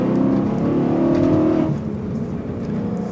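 A BMW M3's engine drones steadily from inside the cabin while driving, a strong low-mid tone that eases slightly after a couple of seconds as the car settles into a cruise.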